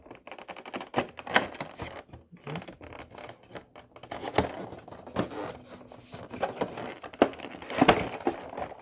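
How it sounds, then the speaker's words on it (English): A Book of Boba Fett ornament package is handled and opened, giving close, irregular crinkles, taps and scratches of cardboard and plastic in short bursts, with quiet gaps and no speech. "So let's unbox."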